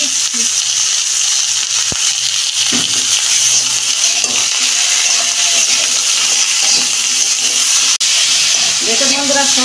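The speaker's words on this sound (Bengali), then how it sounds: "দেখুন বন্ধুরা সবজিগুলো আমি 2 মিনিট ভেজে নেবো।" Mixed vegetables sizzle and hiss loudly and steadily in a hot pan while cooking a fish curry, with occasional utensil clinks and a voice speaking under the frying.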